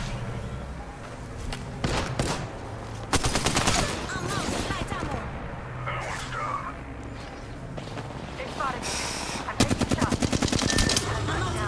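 Rapid automatic weapon fire rattles in repeated bursts during an Apex Legends battle royale match, loud and close, with footsteps and other game sounds between and a player talking over the action.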